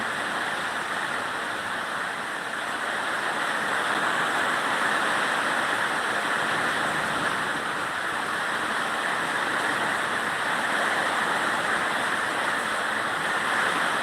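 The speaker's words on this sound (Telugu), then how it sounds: "వర్షం అయితే మరింత ఎక్కువగా వస్తుందండి" A dense, even hiss of heavy rain pours down without pause in Anantapur district, broad and steady throughout, with no talking.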